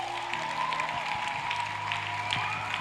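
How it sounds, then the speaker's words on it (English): A church congregation claps at a Monday revival during Harvest Con 2019, a steady wash of applause under sustained organ or keyboard tones. "You better clap your hands, somebody, and bless the Lord"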